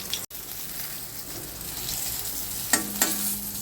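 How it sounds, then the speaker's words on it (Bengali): Eggplant slices frying in oil in a pan, a loud steady sizzle close up, with a couple of sharp spatters or utensil clinks near the end. "হয়ে গেল বেগুনগুলো ভাজা।"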